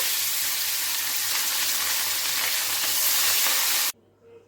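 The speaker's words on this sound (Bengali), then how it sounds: "দিয়ে দিলাম সর্ষের তেল। কড়াইটা খুব ভালো করে গরম হয়ে গেছে। একে একে মাছগুলো ছেড়ে দেবো।" Fish sizzle loudly in very hot mustard oil in a kadai, a dense steady hiss that cuts off abruptly near the end, leaving a faint background.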